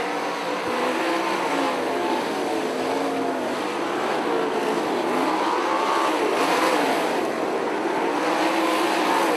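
Race cars roar around a track on the final lap of an IRA A-Main race, a dense, continuous engine din with overlapping cars swelling past, loud and steady throughout.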